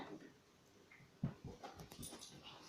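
A pet dog whimpers softly indoors, a few faint, brief whines and little yips spread over a couple of seconds in a quiet room.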